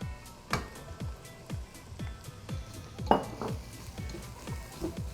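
Onion, garlic, carrots and okra being stirred in a pot, a series of clinking metal spoon knocks against the pot at a steady pace, fairly close, with no voices.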